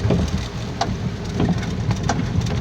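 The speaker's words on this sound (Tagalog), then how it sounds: "sobrang lakas po ng ulan" Heavy rain drums on a car moving along Quirino Highway in Tagkawayan, Quezon, a dense steady hiss over low engine and tyre rumble on a slippery road, with sharper splashes breaking through now and then.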